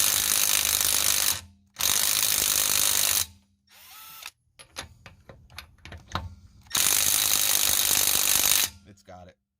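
Dewalt 12V XTREME brushless impact wrench straining against a tight bolt, with loud sustained bursts of hammering broken by short pauses and fainter clicks and knocks between them, close up.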